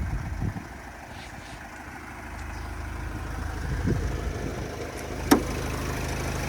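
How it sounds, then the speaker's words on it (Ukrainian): A steady low idle rumble from the 2.0-litre engine of a 2010 Renault Trafic van, continuous, with a brief sharp click near the end. "От тут чути роботу мотора. Працює просто відмінно."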